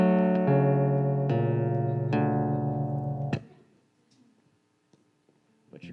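An acoustic guitar in an altered DADGAD tuning rings out with a few strummed chords that sound odd and dissonant, each left to sustain before a final chord fades into quiet room noise.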